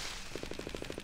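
Rapid string of about nine crackling pops from a Chinese New Year firecracker weapon in Fortnite: Save the World on PC, evenly spaced and fairly quiet, with no talking.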